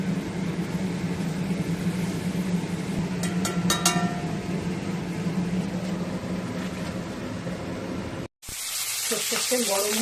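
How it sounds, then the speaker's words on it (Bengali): A batch of tangra fish frying in hot mustard oil gives a steady, dense sizzle close by, with a few clinks partway through and a brief cut near the end. "সরষের তেল গরম হয়ে গেছে, অনেকগুলো মাছ একবারে ভেজে নিচ্ছি।"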